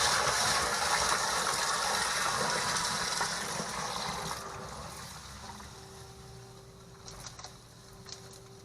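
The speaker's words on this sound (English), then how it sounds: "now we're going to test it by pouring in some water, see if we can get the water level to rise enough to activate the float" Water pours into a sump pit to test a newly installed sump pump, a loud, steady gushing that gradually thins to a softer trickle, with a few small clicks near the end.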